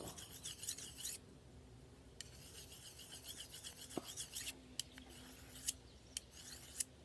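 Steel knife blade drawn across a sharpener in short scraping strokes, a rasping rub with several crisp ticks, close and fairly quiet, no talking.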